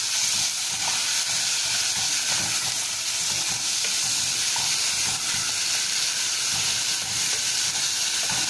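Chopped tomatoes hit softened onions in a hot pan, setting off a steady, close sizzle and hiss with faint stirring scrapes for radish curry, no voices.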